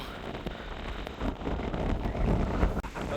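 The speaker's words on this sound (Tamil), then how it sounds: "பயங்கர காத்து ஒன்று அடிக்குது ஆளே தள்ளுதப்பா இந்த காத்து" Strong wind gusts through a mountain forest area, roaring and buffeting the microphone in a continuous, loud rush with brief surges and drops, and no voices heard.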